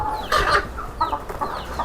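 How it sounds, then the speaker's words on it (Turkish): Chickens, including fighting roosters at a rooster breeder's in Osmaniye, Turkey, cluck nearby, with a few short bird calls and squawks over steady farmyard background noise. "horozumuz var burada"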